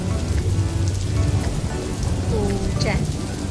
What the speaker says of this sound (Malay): Lihat air hujan ini.